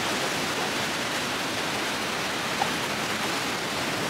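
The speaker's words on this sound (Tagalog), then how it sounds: "Ang ingay nga lang ng tubig" The Rhine Falls waterfall in Switzerland roars with a dense, steady rush of falling water heard from nearby, unbroken for the whole stretch with no voices.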